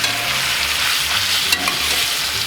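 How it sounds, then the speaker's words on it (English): A steak, previously cooked indirect on a Traeger, searing in a hot cast iron pan: loud, dense, continuous sizzle with steady crackle throughout and one brief clink near the middle. "we're gonna put down the steak that was done indirect on the Traeger"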